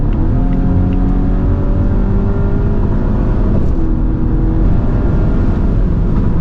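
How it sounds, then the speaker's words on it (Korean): A Volvo V60 Cross Country accelerates at full throttle, heard from inside the cabin. The engine drone is loud and sustained and climbs steadily in pitch through the gears, with a brief dip at a shift. "풀악셀 한 번만 밟아보겠습니다."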